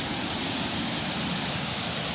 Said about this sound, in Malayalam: എത്ര കണ്ടാലും മതി വരാത്തൊരു വെള്ളച്ചാട്ടം